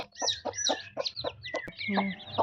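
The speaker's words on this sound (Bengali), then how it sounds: "মুরগিগুলোকে খেতে দিচ্ছে" Domestic village chickens cluck in short, close, rhythmic bursts while being fed, with a sharper squawk near the end and faint farmyard background.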